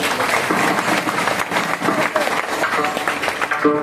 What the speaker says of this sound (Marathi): अशोक पवार या साहेबांसाठी जोरदार टाळी वाजवा